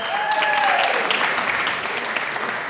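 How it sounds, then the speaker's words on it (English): An audience at the Colorado state capitol's House chamber claps steadily during a legislative day, a dense close applause with a few faint whistle-like tones early on. "Let's give her a round of applause, ladies and gentlemen."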